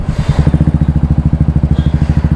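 A Pulsar motorcycle fitted with a loud aftermarket silencer exhaust thumps at idle, firing as a rapid, even, close popping pulse that stays steady throughout with no voices.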